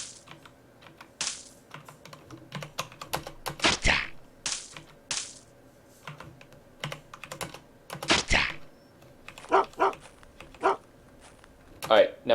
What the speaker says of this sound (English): Now my dogs are barking, and I think that means the combat is over